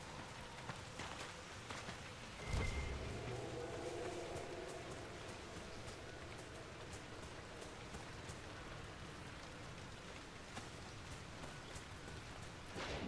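Steady rain falls across a bog in the game Dragon Age Inquisition, a soft even patter of drops on wet ground and water, quiet and constant throughout with one brief low rumble early on.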